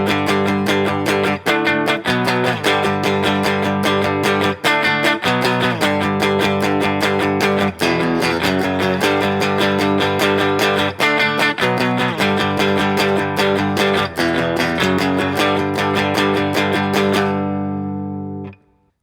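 Distorted electric guitar chugs through a chorus riff with steady, repeated palm-picked power chords and brief gaps between phrases, played alone and ending on a chord that cuts off.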